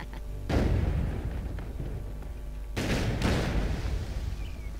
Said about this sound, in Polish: Wybuch powinien mu coś zrobić.